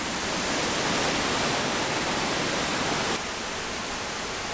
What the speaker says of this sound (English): We left the beaten trail to explore in the woods along the waterfall.